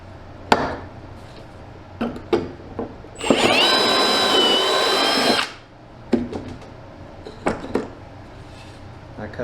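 Power drill boring pocket screw holes in wood while building an off-grid tiny home, one steady whining run of about two seconds, close and loud, between short knocks and handling clatter.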